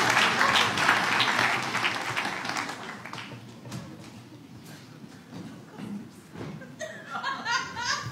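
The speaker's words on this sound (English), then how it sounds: "Give Aaron a big round of applause." Comedy club audience applauding, loud clapping with chuckles and laughter at first, then thinning out and fading, with scattered claps and a few voices toward the end.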